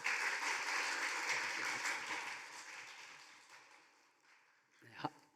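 A church congregation claps to welcome a missionary to the pulpit, a brief burst of moderate applause that fades out over a few seconds, followed by a sharp thump near the end.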